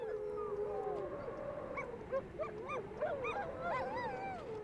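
Several dogs howling and whimpering together on Norway's Arctic roads, overlapping wavering howls and short yips, moderately distant, continuous over a few seconds.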